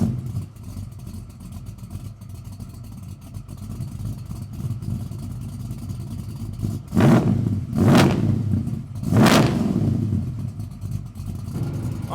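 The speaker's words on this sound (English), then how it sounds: "we're out in the 72 C10, and this thing is such a fun truck to drive" A supercharged 1972 Chevrolet C10 restomod truck with a 418 cubic inch stroker V8 driving, a steady engine drone interrupted by three strong surges of revving or acceleration near the end, loud and close with no talking.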